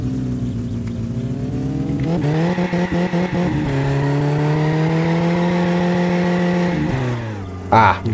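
The Satsuma car in the video game My Summer Car, fitted with a VTEC engine, revs hard as it accelerates. A loud, rising engine note climbs and drops with gear changes, then a short squeal near the end.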